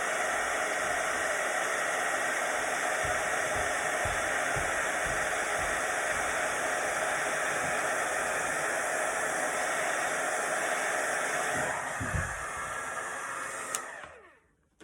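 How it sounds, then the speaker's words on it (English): An old, large heat tool melting embossing powder on a stamped image blows a loud, steady hair-dryer-like whoosh for about twelve seconds, then stops with a click and the noise fades out. "And then you're gonna need a heat tool."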